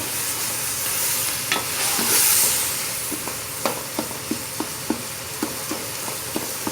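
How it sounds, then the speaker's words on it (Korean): Tomato soup being stirred in a sizzling pan, with a spoon or spatula tapping and scraping in a quick, fairly regular series of knocks over a constant hiss of cooking. "다 느껴지면 이렇게 섞어요"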